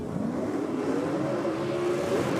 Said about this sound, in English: Well, Maxwell just spinning the tyres on the head of the throttle there a little bit.